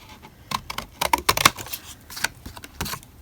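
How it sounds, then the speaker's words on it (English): A large pair of scissors cuts card shapes for handmade Christmas cards with Brusho backgrounds, making a series of crisp, close snips and paper rustles in an uneven rhythm, with no talking. "I've got a large pair of scissors this time, and I'm just going to cut it"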